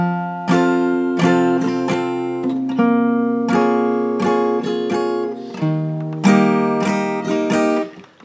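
Acoustic guitar strumming a song in a bass-note, down, down-up-down pattern, crisp chord strokes sounding close and clear over eight seconds, unaccompanied and without voices.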